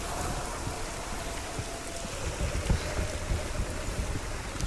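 Steady rain falling in the Hellblade: Senua's Sacrifice video game, a constant broadband hiss with faint patter and no voices.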